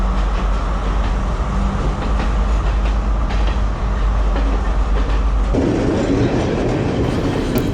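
A train rolls along the track near Pattipola, Sri Lanka, a loud continuous rumble with rhythmic clatter of wheels on rails heard from on board, shifting in tone near the end.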